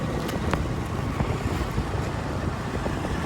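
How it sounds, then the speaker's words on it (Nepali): Strong gusty wind blowing outdoors just after rain and hail, roaring steadily and buffeting the microphone with low rumbling pressure for the whole stretch, with no talking. "हेर यता हेर्नु सक्नुहुन्छ कति प्रेसर आएको यो हावाको"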